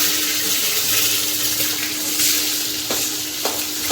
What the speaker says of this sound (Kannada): ಈರುಳ್ಳಿ ಹಳದಿ ಆಗೋ ತನಕ ಅಳ್ಳಾಡ್ತಾ ಇರಿ.